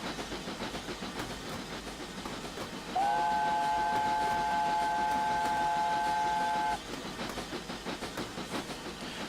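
Steam whistle of a narrow gauge locomotive, David Lloyd George, on a North Wales railway, one long steady blast of several seconds rising clearly over the chuffing and running noise of the train.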